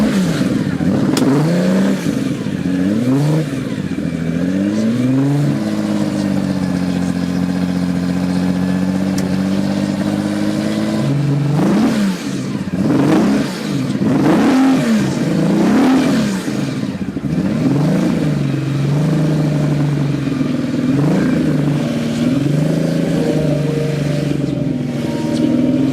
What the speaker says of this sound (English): On the ice, the car will be driven by NASCAR driver Jimmy Johnson.